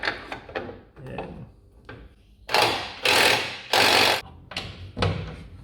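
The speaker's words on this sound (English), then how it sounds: "So yeah, just undoing those bolts" Long subframe bolts through urethane bushings on an S14 Silvia are worked loose with a power tool, giving repeated close whirring bursts of varying length, a few stronger sustained runs in the middle, separated by brief pauses.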